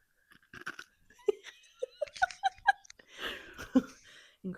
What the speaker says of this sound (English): I'm just crunching that ice.